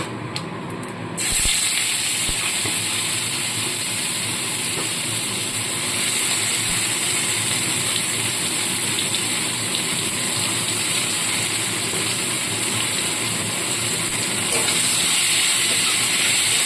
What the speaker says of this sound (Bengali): পেঁয়াজটা একটু হালকাভাবে ভেজে নেবো পেঁয়াজটা হালকা মতো ভেজে নিচ্ছি